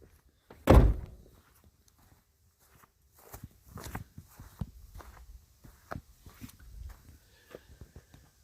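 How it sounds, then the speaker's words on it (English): A van's rear doors shut with one loud, close slam, followed by a run of softer thuds and footsteps as someone moves around the back of the vehicle. "Shut the doors."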